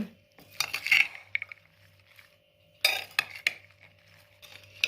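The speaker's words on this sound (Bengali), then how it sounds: "ভালো করে সালাদ পাতাটা দিয়ে আমি মিশিয়ে নিচ্ছি এভাবে" Salad leaves are tossed in a bowl with utensils, giving bursts of clinking and scraping separated by quiet pauses.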